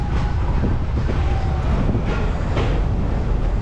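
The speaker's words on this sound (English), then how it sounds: "And we have the train underneath us." A theme park train at Busch Gardens rumbles past beneath a walkway, a loud, steady low roar of rolling cars with wind buffeting the microphone.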